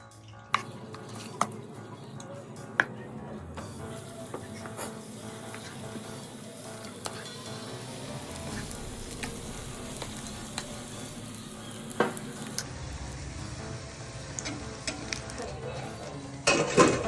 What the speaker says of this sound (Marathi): बटाटा भजी झाल्यानंतर आता कांदा भजी.